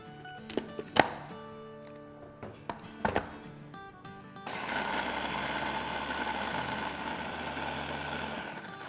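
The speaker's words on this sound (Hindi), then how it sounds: "और साथ ही इसमें हम डालेंगे 6 टेबलस्पून शक्कर और अब इसे हम ब्लेंड करेंगे।" A blender whirring fennel and sugar for a paan drink: a few sharp taps and clicks at first, then the motor kicks in halfway through with a loud, steady, dense whir that runs to the end.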